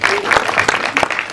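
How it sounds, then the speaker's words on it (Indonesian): Audience applause at a film press conference, a short burst of steady clapping from a crowd filling the room, fairly loud and close. "Kita berikan tepuk tangan yang meriah."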